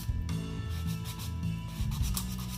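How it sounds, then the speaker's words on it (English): Buffer block lightly worked over dip powder nails, producing a close, soft, continuous rubbing hiss with faint strokes and no voices. "I just go over really lightly with my buffer block to smooth out any bumps."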